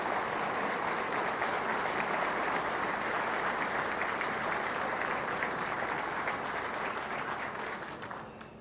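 Sustained applause from a large studio audience at a Venezuelan television broadcast, dense and steady clapping that holds evenly and fades slightly at the end.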